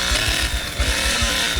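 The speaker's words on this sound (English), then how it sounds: "I forgot to turn on my chainsaw." A chainsaw in The Texas Chain Saw Massacre video game runs loud and close, its engine chugging in a quick, rhythmic low pulse through the short clip, with no talk.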